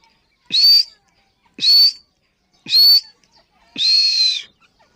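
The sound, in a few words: teetar (grey francolin) calling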